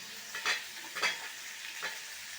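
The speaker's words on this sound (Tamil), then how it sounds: "வெஜிடபிள்லாம் சும்மா கொஞ்சம் நேரம் வதக்கினா போதும்" Vegetables sauté for Tamil Nadu-style sambar in a pan, with three distinct spatula scrapes and stirs over a steady, close sizzle.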